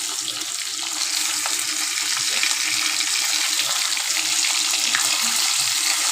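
Tilapia sizzles and crackles steadily in hot oil in a frying pan as it is flipped, a loud, continuous hiss close up with small pops and a soft clunk.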